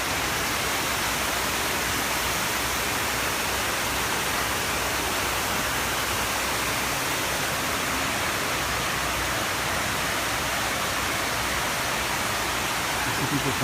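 Water cascades into the 9/11 memorial pool in New York, a steady, dense roar of falling water that stays loud and unbroken throughout, with no pause or change in intensity.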